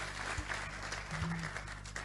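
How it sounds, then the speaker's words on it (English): Audience at an agribusiness summit for women clapping steadily together, a dense, continuous patter of hands at moderate level with faint crowd murmur underneath. "If you're clapping, clap hard."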